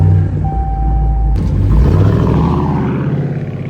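A Dodge Challenger R/T Plus muscle car engine cranks and fires up with a loud roar, then settles into a deep, steady idle rumble heard up close, with a chime sounding just before ignition.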